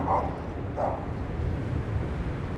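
Dogs bark at a passing Onewheel electric board outdoors, two short muffled barks early on, moderately distant, over steady wind and road noise.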